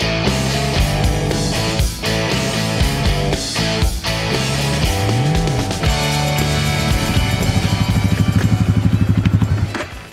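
ATV quad bike engine revving loud and close as the rider pulls away, its pitch rising and falling through gear changes and then settling into a steady throbbing putter.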